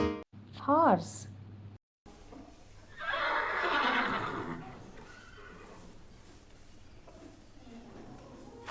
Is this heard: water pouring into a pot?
no